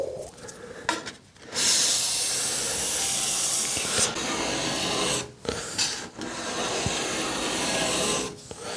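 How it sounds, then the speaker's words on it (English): Hand scraper pulled across a wooden staircase to strip old finish, a loud dry rasping in long sustained strokes with brief pauses between passes, close and alone with no talk. "I'm always using a scraper first"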